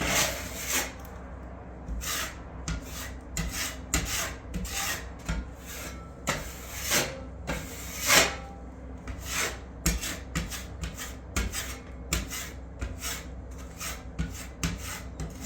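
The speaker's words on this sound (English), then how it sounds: "see the sanding right now?" Rhythmic scratchy rasping of sandpaper rubbed back and forth over a patched wall, close and steady, with no talking.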